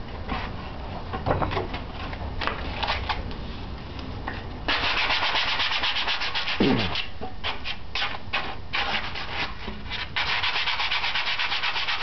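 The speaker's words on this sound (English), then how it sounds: "Sanding." Steady abrasive rubbing of sandpaper on wood, continuous strokes with a louder, rougher stretch midway, close up and without talk.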